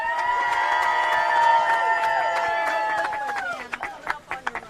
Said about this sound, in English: Let's give a big, huge round of applause for Barbara Howard.